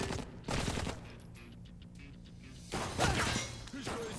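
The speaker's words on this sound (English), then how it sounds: "Good old AK-47." AK-47 gunfire in the video game Blue Estate, two loud bursts of rapid automatic shots separated by a quieter gap, with crashing impacts in between.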